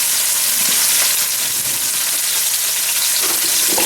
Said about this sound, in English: Go ahead and put this roast in here for about a minute or so on this one side. I'm just going to get that browning going.